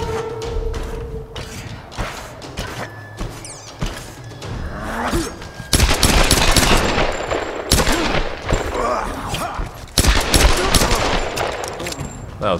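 Gunfire in the video game Tomb Raider (2013): bursts of shots and impacts crack out over a busy game soundscape, growing louder and denser in the second half, with occasional voices in between.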